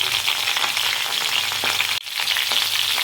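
Mixed vegetables with eggplant, green chillies, chopped tomato and salt fry in a pan for a vegetarian curry, a steady close sizzle with faint stirring scrapes and a brief dip near the middle, no talking.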